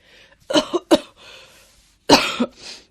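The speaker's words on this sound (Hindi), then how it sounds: "वो जोर जोर से खांसने भी लगी" A woman coughs hard in repeated harsh bursts, a quick cluster followed by another strained cough and raspy breaths between them.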